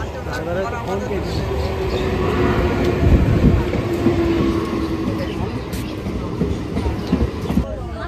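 A train rolls along the rails from a platform in Murshidabad with a continuous rumble and rhythmic clatter, voices murmuring nearby throughout.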